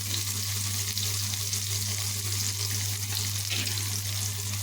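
Sliced onions sizzling in hot oil in a pan, an even close crackling hiss running unbroken throughout with a steady low hum underneath.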